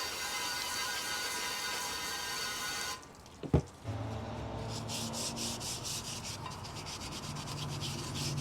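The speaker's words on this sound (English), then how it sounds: "all it takes is just a little bit of rubbing with, you know, a Scotch-Brite pad like that" A Scotch-Brite pad scrubs a blackened item in steady, continuous rubbing strokes, close and fairly loud, with a brief pause and a small knock before the scrubbing resumes.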